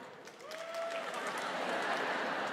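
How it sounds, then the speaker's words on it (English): An audience at the Sydney Opera House breaks into applause, the clapping building within the first second into a broad, steady wash that carries on to the end, with a brief vocal sound near the start. "Clap now."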